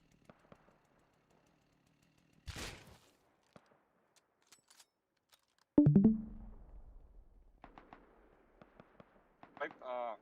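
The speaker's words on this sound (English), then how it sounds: "I'm gonna start shooting them." Gunfire in a video game while shooting zombie-like enemies stuck on a conveyor belt: a few sharp, loud bursts stand out over mostly quiet game sound, with a strong blast around the middle.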